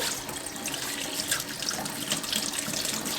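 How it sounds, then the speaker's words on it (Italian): Tap water runs steadily into a sink while small cultivated mushrooms are rinsed, a continuous close splashing hiss with no speech. "Laviamo i nostri funghetti."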